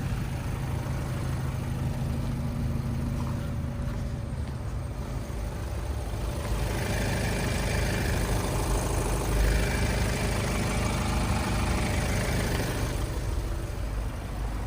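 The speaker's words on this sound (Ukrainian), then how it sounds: "Мотор працює, двигун працює гарно." A Skoda Octavia engine idles steadily nearby, a constant low rumble with slight rises in revs, no talking.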